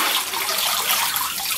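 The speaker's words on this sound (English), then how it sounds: "the fibers fade, the water goes out, and we have sugar paper" Water drains and splashes steadily out of a sieve as cotton fibres settle into handmade paper in Ohrid, Macedonia, a close, continuous rushing trickle.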